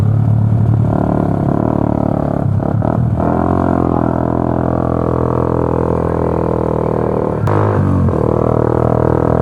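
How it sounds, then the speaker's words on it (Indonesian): A motorcycle rides along a winding road with turns and descents, its loud engine humming steadily and close throughout, with shifting pitch and a brief change near the end. "Gua agak gak enak juga nih bawa motor, bising banget anjir, ganggu orang gitu."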